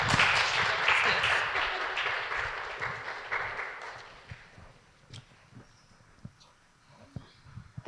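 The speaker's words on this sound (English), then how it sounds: "you can warm applause for her." Warm audience applause greets Morrisa Jenkins as she comes on stage, a dense burst of clapping for about four seconds that fades into a few scattered claps.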